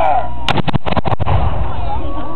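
Black powder cannon loaded with two ounces of powder fires: a series of sharp, very loud blasts in rapid succession, followed by a long rumbling echo as people talk in the background.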